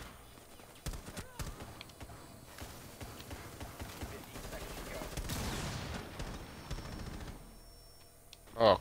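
Gunfire in a counter-terrorist shooter video game, with enemies firing from higher ground: scattered, irregular shots at middling distance over busy game ambience, ending with a sharper burst.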